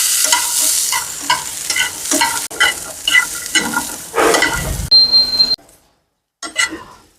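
Garlic and onion fry in a pan with a lively sizzle, broken by repeated scraping and stirring strokes and a few light clinks, then a short quiet gap before one more burst of stirring.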